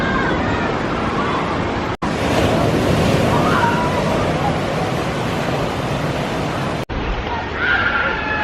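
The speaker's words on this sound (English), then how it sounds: "And the waves are not as violent as on the other side" Ocean waves break and wash steadily at a small beach cave in Corona del Mar, a loud, continuous roar close by, with wind buffeting the microphone.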